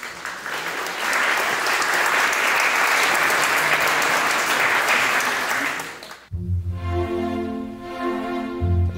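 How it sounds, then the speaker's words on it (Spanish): Audience at a quinceañera celebration breaks into loud, sustained applause for about six seconds, then it cuts to a hall with music playing. "¡Fuertes los aplausos!"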